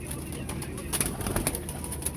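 Pigeons in a group of hens and cocks coo softly at a distance over steady background hiss. Low, throaty calls repeat in an uneven rhythm.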